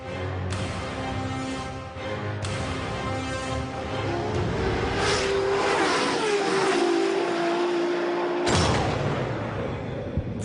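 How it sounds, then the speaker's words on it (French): Ferrari LaFerrari hypercar engine at the Geneva Motor Show, a loud continuous roar that rises in pitch as it revs, with sharp bursts marking each change and a steady high whine climbing through the middle before a final surge. "Voici la Ferrari."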